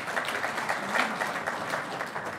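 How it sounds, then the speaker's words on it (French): Audience applause at the official opening ceremony of an investment forum in Tunisia, a steady, dense patter of many hands clapping together throughout, moderately distant and filling the hall. "On peut les applaudir"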